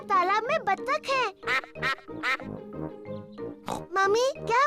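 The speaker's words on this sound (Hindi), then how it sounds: "देखो, वहाँ तालाब में बत्तख है।" Cartoon ducks quack on a pond amid lively animated voices, their calls mixed into busy overlapping speech from pig characters rather than heard alone.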